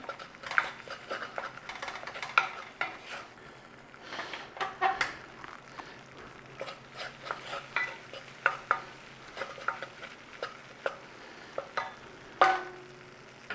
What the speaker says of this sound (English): Start to cook off your flour in that butter.